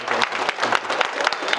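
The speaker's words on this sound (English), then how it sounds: "now if we could just get a really loud round of applause so we beat the team on the other side" Conference audience applauding loudly: dense, continuous clapping from a crowd, close and sustained throughout with no pauses.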